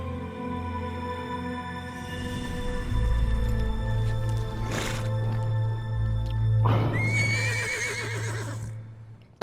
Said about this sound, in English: The freaking horse